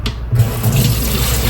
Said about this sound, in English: Yeah, I can add some water.